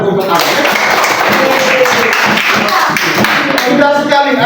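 Rhythmic hand clapping from a group, a quick series of taps and claps running throughout and mixed with overlapping voices.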